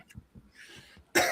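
A few soft throaty coughs and breaths, then one sharp, louder cough bursts out at the end, close to the listener.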